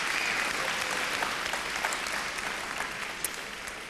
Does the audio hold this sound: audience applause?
yes